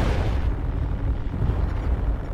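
Missile explosions landing in MechWarrior Online, a heavy rumbling, booming wash of blasts that stays loud and continuous for a couple of seconds.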